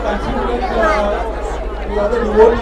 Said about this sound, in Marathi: तुम्ही बघू शकता इकडे किती गर्दी आहे खूप लोक आली आहेत